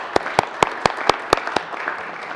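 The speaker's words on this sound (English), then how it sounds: "Let's give them a clap." Applause at a Colorado Senate legislative session: a short burst of sharp, evenly spaced claps, roughly seven distinct hits in under two seconds, fading into a soft room murmur.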